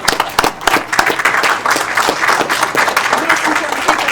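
A city council meeting audience applauds the Team Moms, with steady, dense clapping from a room full of people, fairly loud and sustained throughout.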